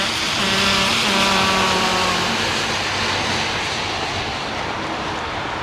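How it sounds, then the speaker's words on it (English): A Boeing 777 taxiing to its parking stand at Heathrow makes a loud, continuous engine roar with a droning whine, close by and unbroken across the whole stretch. "he's going in there, this 777. He's going to park up over there"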